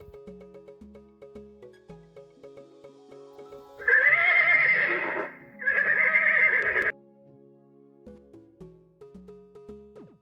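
A horse gives two loud, close whinnies back to back, shaky and high-pitched, with a short break between them, over a light, rhythmic children's tune.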